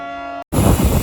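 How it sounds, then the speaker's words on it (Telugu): A passenger train pulling away from a short village stop on the Puttaparthi–Bengaluru line: a held horn tone, a split-second of silence, then a loud, close, rough rumble of the moving train. "ట్రైన్ అయితే మళ్ళీ స్టార్ట్ అయిపోతుంది"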